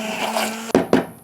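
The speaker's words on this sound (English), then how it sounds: "So I'm going to go ahead and put this immersion blender in there and make it a little bit more fine" An immersion blender whirs in a pot of African-style BBQ sauce, a steady motor hum broken by two sharp bursts as the blade meets the sauce, loud and close.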